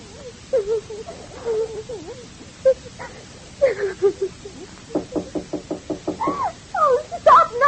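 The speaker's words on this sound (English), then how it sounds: "Oh, stop knocking and come in." Knocking on a door in an old-time radio drama: scattered single knocks, then a quick run of about eight sharp raps, with a voice speaking around and over them.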